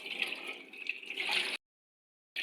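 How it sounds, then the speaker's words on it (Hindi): Running water splashes and sloshes close by as raw chicken is washed, for a second and a half, stops abruptly, then resumes briefly at the end. "ये है मेरे पास 1 kg चिकन, जिसको मैं धो रही हूँ।"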